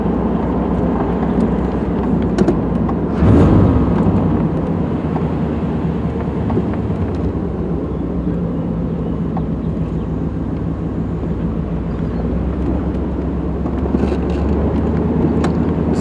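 A Pontiac Firebird's exhaust rumbles steadily while it drives through a neighborhood with the windows partly open, a loud, continuous low drone with road noise and a short louder burst early on.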